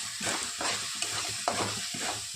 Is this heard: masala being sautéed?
yes